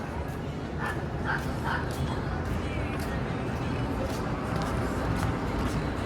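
Small dog yapping in short repeated bursts, somewhat distant, over steady outdoor background noise in Clifton Hill, Niagara Falls, Ontario.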